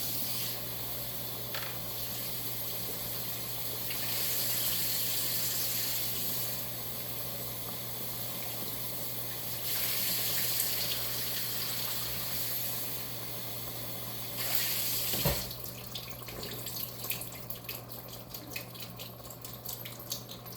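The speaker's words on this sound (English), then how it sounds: "I'm gonna add the black beans. I'm gonna drain them as well. And rinse them." Drained black beans are rinsed under a running kitchen tap, giving a steady hiss of flowing water that swells in a few bursts, then gives way to scattered clatter and splashing near the end.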